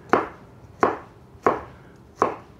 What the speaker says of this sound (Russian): перец болгарский тоже порежем не мелко, но и не очень крупно